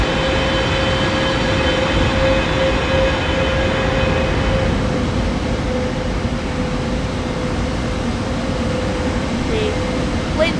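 Fly By Wire A320 airliner in a flight simulator game touching down on auto landing, heard as a steady loud cabin and engine roar with a constant tone, spoken commentary running over it.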